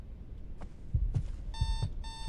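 Heartbeat thumps in the ghost-hunting game The Other Side, a few low, soft double beats pulsing under a background hum, joined partway by a steady electronic beeping tone.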